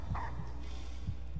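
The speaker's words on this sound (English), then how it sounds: "That heartbeat you're hearing is my heartbeat in real life." A real-life heartbeat pulses under a Layers of Fear 2 horror game, heard as low, muffled, throbbing double beats over a steady background hum.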